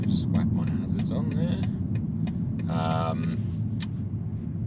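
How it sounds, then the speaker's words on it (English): A big truck pulling out onto a road, heard from a motorbike during licence training: a continuous close rumble of engines and traffic, with a voice talking over it and a short high tone near the end. "Okay, there's a big truck coming out."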